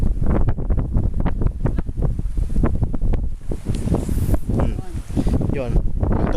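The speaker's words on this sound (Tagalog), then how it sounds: "malakas yung hangin, uulan nata" Strong wind buffets the microphone in loud rumbling gusts, with people talking underneath.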